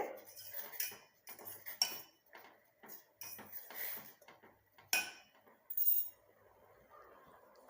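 A spoon clinks and scrapes against a metal pot in short, irregular bursts while black cumin is stirred in, close by, with quiet gaps between the taps.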